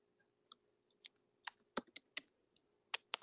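Computer keyboard typing picked up on an open Skype call just after a webinar ends, with sparse, uneven clicks of keys, some louder taps and quiet gaps between them, faint and alone without any talking.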